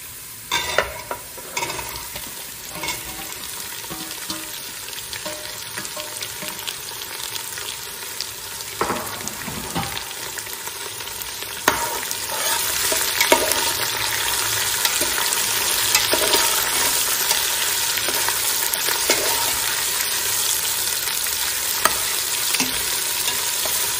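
Onions sizzle and fry in a pan for kadhi-chawal at a community langar, a steady crackling hiss broken by occasional stirring scrapes, growing louder partway through.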